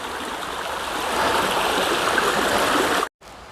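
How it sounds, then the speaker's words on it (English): A small river flows steadily beneath a hewn log bridge on the Appalachian Trail, a dense, close rushing wash that holds even throughout before cutting off abruptly near the end. "here's a nice little river and a nice hewn log bridge to cross it with"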